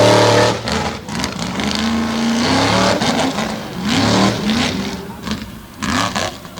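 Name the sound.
Chevrolet drag racing truck run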